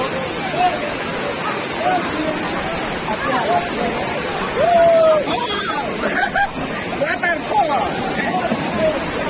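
Steady roar of a waterfall at a busy picnic spot in Assam, a constant broadband wash of falling water with crowd chatter and voices scattered through it.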